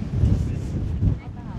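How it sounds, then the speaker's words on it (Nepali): Gusty wind roars and buffets the microphone in a loud, steady rush on a hike at Dovestone, without any talking. "हावा एकदम लागिरहेको छ"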